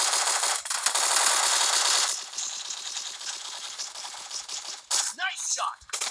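Rapid automatic gunfire rattles loudly for about two seconds in a shooter video game, then softer, sporadic shots and crackling follow with a few sharp bursts near the end.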